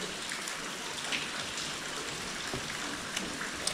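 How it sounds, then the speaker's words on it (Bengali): Steady rain falls outside in a forest, a continuous soft hiss of drops with a few faint taps, fairly quiet and without talk. "আর জঙ্গলের মধ্যে বৃষ্টি হচ্ছে বাইরে, দারুণ ওয়েদার।"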